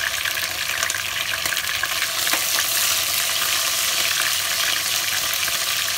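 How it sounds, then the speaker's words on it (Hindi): Ginger-garlic paste fries in a pan over a medium flame for a chicken korma, giving a steady, close, continuous sizzle and crackle that lasts the whole stretch with no voices. "ये आपको दु तीन मिनिट फ्राई करी मीडियम फ्लेम रे"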